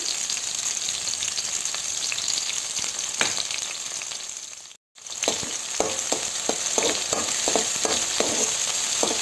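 Oil sizzles and crackles steadily in a hot pan as curry leaves fry, briefly cut off midway, then resumes with spatters and stirring clicks.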